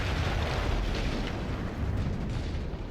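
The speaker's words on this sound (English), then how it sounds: "That explosion was one of the sweetest sights of the war for me" Artillery explosion in a war video game: a sustained, loud, rumbling blast with dense low boom and broadband roar filling the whole stretch, no voices.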